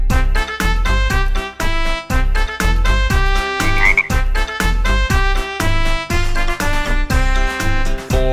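Frog croaks in a children's nursery rhyme come as a rapid, regular series of loud, tonal, musical bursts with short gaps, beat-like and steady throughout.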